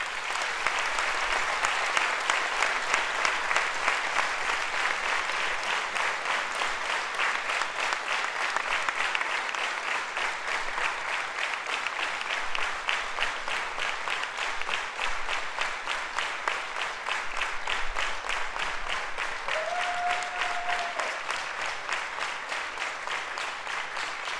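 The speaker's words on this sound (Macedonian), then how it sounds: "ве молам со уште еден аплауз да ги поздравиме наградите" Theatre audience applauding the awards at the closing ceremony of the 59th Vojdan Chernodrinski festival in Prilep: sustained, dense clapping from a large crowd for the whole stretch, with a brief tonal sound late on.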